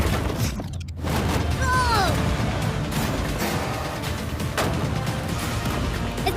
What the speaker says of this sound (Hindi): ये 5 टैंक्स पैसों पर निशाना लगाकर 20 राउंड फायर करने वाले हैं।